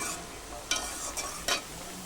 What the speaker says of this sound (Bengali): তো এবারে ভালো করে সবজিগুলোকে